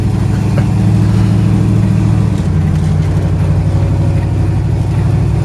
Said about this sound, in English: What a sound. It's a 7-liter engine.